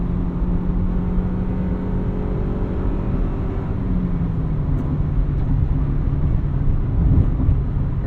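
A 1999 Honda Civic Si engine drones steadily from inside the car on back roads, its pitch climbing and then shifting as VTEC engages, with road and wind noise underneath throughout.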